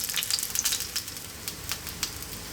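Cooking oil sizzles as it reduces in a pan for a ginger garlic soy salmon dish, a close, steady crackle with scattered sharp pops.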